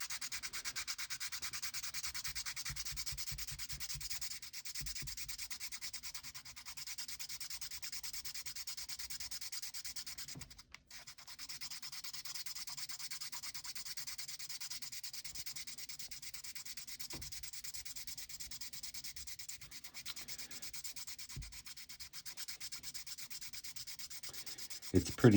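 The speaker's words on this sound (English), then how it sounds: "400 sandpaper and put it on there and sand it." Bassoon reed cane being sanded with 400-grit sandpaper: a steady, close, continuous rubbing scrape that runs almost without pause, with only a brief break midway and no talking.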